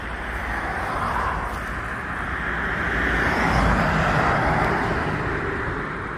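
Road traffic passes by outside a historic company store in Wyoming County, a steady broadband roar of vehicles that swells and fades gently, fairly loud and continuous with no talking.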